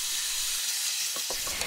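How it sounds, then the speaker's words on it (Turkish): Meat sizzles in olive oil in a hot pan over high heat, a steady broad hiss with occasional crackles and pops, close and continuous. "Tavamıza biraz zeytinyağı alalım ve ısınmış olan tavamıza hemen etleri alalım. Yüksek ateşte suyunu çekene kadar kavuralım."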